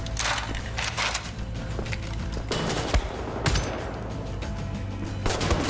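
Assault rifle bursts in Wolfenstein: The New Order crack out in loud, repeated volleys, several sharp rapid-fire bursts spaced across the stretch, close and dominant, with no speech.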